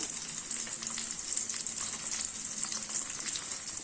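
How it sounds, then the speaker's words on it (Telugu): Paneer cubes fry in two spoons of oil over a low flame, giving a steady, even sizzle with soft crackling that runs alone throughout. "ఇప్పుడు ఇలా గోల్డ్ కలర్ వచ్చేలాగా బాగా ఫ్రై చేసుకోవాలి"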